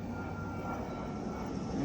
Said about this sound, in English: there goes an airplane.